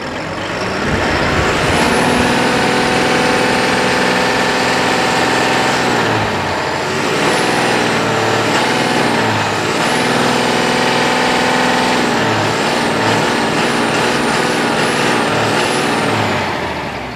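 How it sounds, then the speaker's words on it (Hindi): A Tata BS6 truck with a 180-horsepower six-cylinder engine runs steadily and loudly up close. Its drone holds for the whole stretch, with brief shifts in pitch and short hissing sounds. "इंजन की जो साउंड है वो मैं आपको यहाँ पर चेक करवाता हूँ"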